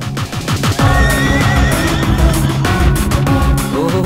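A horse neighs loudly and close, a long shrill whinny followed by further rising and falling calls, with faint hoof clops beneath.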